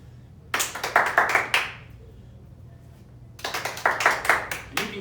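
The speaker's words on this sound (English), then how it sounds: "Clap as many times as you can, and then catch it." Two quick bursts of hand claps, about six to eight rapid claps each, made while tossing a ball up and catching it, close and sharp with a quiet pause between the bursts.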